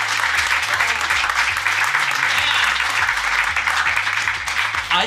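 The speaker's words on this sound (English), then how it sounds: "Give it a round of applause" An audience applauds at a talk, dense sustained clapping from a large crowd, loud and steady throughout with a low musical bed underneath.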